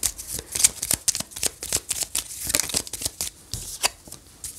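A deck of tarot cards being shuffled up close, with a rapid, uneven run of crisp riffling and flicking bursts that continues throughout, with no voices.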